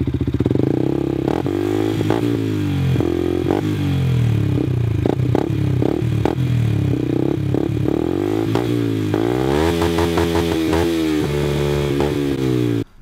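A Yamaha WR125X motorcycle engine with a full Arrow aftermarket exhaust, deep and throaty, revs up and down repeatedly, loud and close, with crackles and rattles between the revs.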